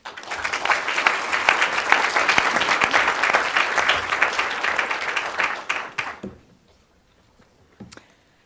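A lecture hall audience applauds to welcome a lecturer, with full, steady clapping lasting about six seconds before cutting to near silence and a faint stray sound.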